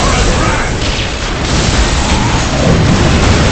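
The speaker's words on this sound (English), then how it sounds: "Let the grenade fly!" A loud grenade blast in Warhammer 40K Soulstorm, a dense, sustained explosive roar filling the whole moment with a heavier swell near the end, amid chaotic battle noise.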